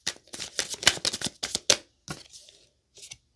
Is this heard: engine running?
no